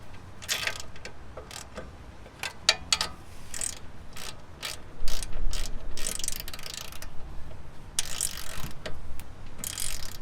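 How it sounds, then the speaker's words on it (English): Torque wrench ratcheting as bolts on a control arm brace for a Hyundai Veloster N are tightened to 50 foot-pounds, with bursts of sharp close clicks in uneven runs separated by brief pauses. "So you get your torque wrench, and then you just torque them down."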